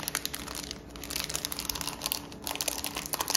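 Wrapping is folded and crinkled for a school lunchbox, a close, continuous rustle of dense crackles and crinkles for a few seconds with no talking.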